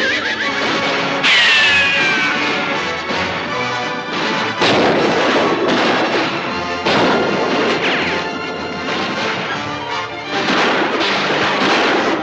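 Gunfire from a Winchester rifle in a western film, loud sharp shots cracking repeatedly amid crashing impacts and a horse's whinny, dense and close throughout a busy action scene without talk.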